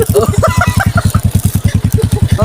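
A motorcycle engine idles close by on a rural farm road, putting out a steady, loud, throbbing pulse. Brief voices come through over the engine.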